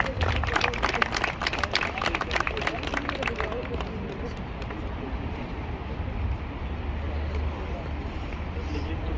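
Audience applause at a Pakistan Association of Hong Kong sports gala, dense, lively clapping at the start that thins and fades into a background of crowd murmur and voices.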